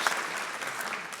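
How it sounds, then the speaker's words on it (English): Brief, soft burst of audience clapping at a women's conversation event, a dense patter lasting about a second without talk. "let's clap for exploring space"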